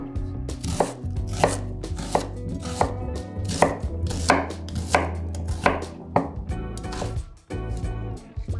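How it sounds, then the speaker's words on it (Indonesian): A knife coarsely chops ingredients on a board in a quick, uneven run of sharp, close thuds, about two per second, with no voices. "Cik Nam potong kasar sebab kita akan kisar kasar berasingan."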